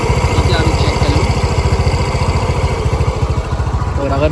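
TVS Jupiter scooter engine idling close and loud in a steady rapid putter, with a loose number plate adding a buzzing rattle throughout, and someone speaking over it.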